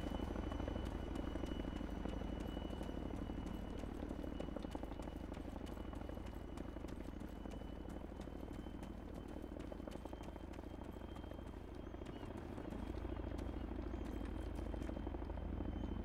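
A helicopter in the video game Exile gives a continuous rotor thump and engine drone that stays steady and fairly faint throughout.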